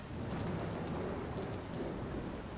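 Rain pours steadily over a city street in Watch_Dogs, a dense even hiss with a low rumble of thunder rolling beneath it, distant and sustained throughout.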